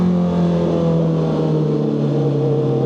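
Honda CBR650R motorcycle engine droning steadily while riding toward a tunnel, a loud, continuous hum with strong low harmonics and no talk.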